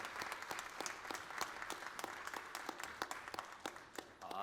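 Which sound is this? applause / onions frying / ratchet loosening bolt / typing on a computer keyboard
applause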